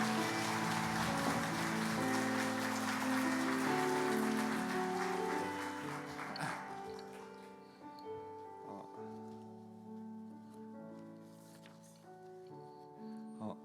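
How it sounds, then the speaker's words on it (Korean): A church congregation applauds a guest during a Sunday worship service, the clapping loud and dense over steady instrumental music, then fading after about six seconds so the music carries on alone. "여러분 따뜻한 박수로 맞이해 주시면 감사하겠습니다"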